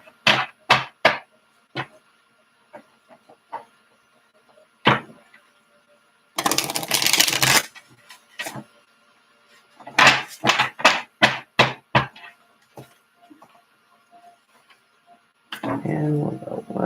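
Tarot cards riffle and slap in short bursts with quick taps between them, a couple of longer rippling shuffles standing out against quiet gaps.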